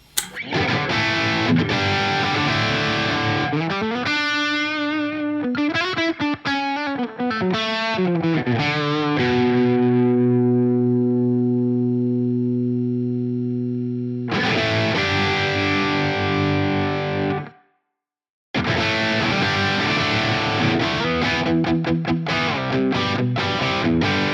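Heavily overdriven electric guitar through a ToneX Plug amp modeler plays chords and sustained notes with a thick, distorted tone, loud and continuous apart from one brief silent gap.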